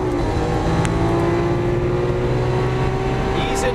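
A Lamborghini Aventador LP700-4 V12 engine pulls hard on a racetrack, a loud, steady, rising drone from inside the car with no break across the whole stretch.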